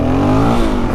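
DRZ400 dirt bike engine revving hard while the rider pulls a wheelie on a snowy trail, a loud, close, rising mechanical drone for about a second.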